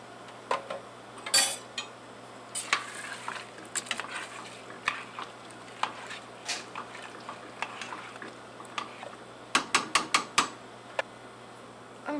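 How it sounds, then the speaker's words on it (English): A spoon stirring tomatoes and pasta in a metal pot, giving scattered clinks and scrapes, some quick bursts of rapid knocks, over a steady low hum in a quiet kitchen. "We're going to stir that around, and we're going to go ahead and add our pasta."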